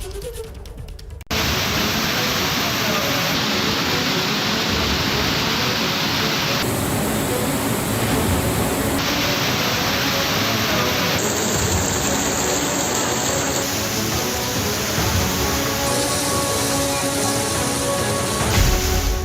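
Roaring floodwater after heavy rain in Ratlam, Madhya Pradesh surges in a loud, dense, unbroken rush that fills the whole clip with no voices.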